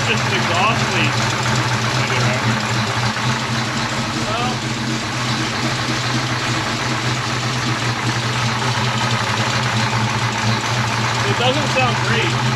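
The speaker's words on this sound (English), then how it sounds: "Yeah, I think it's just an exhaust leak." A 1956 Chevy engine with an exhaust leak idles close by with a steady low rumble and a rough, rapid ticking pulse, continuous throughout.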